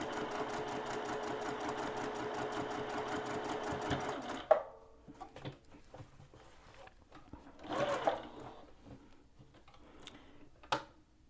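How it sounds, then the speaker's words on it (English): A sewing machine runs in a fast, steady stitching burst while back stitching a dog bandana, then stops at about four seconds, followed by a few faint clicks and handling noises. The sound is close but fairly quiet. "when you get to the end, you also want to make sure you back stitch as well"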